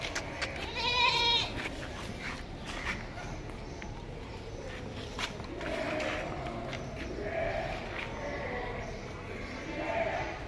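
Goats bleat at a busy livestock market, the Deonar goat bazaar in Mumbai, with several bleats rising through crowd chatter and constant background noise, the clearest one early on and fainter calls later.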